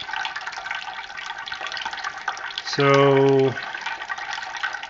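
Water runs steadily into a homebrew kettle on a brew day, filling toward six gallons, a continuous splashing wash with a brief louder tonal rush near the end, and a voice speaking briefly over it.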